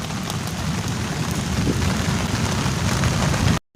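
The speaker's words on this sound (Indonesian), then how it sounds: "hujan" Steady, heavy rain with strong wind pours down continuously in a dense hiss on a beach at Pelabuhan Ratu, with a brief cut to silence near the end.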